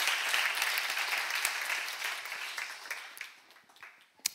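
A church congregation at a sermon seminar bursts into loud applause that gradually thins and fades, leaving scattered claps and a final sharp clap or knock at the very end.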